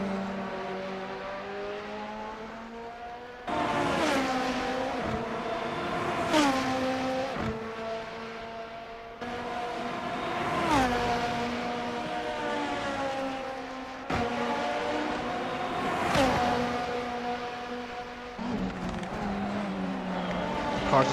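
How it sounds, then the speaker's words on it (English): Race cars roar around the Suzuka circuit in a racing video game, sustained engine drones rising and falling in pitch as several cars pass and shift gears, loud and continuous throughout. "Cars are still roaring here in Suzuka"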